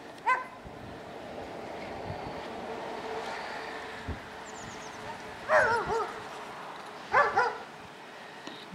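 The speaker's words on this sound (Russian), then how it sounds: "Вот собачки нарушают эту тишину." Dogs barking in the distance across an open winter landscape on a very windy day, a few separate yips and barks in short clusters over a low, steady rush of wind.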